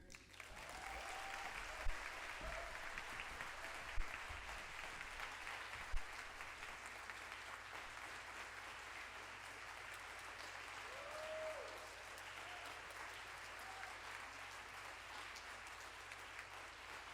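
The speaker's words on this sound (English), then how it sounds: "Let's give him another round of applause, please." An audience at an equity and leadership symposium claps in a faint, distant, sustained round that stays even throughout, with a few sharper knocks early on.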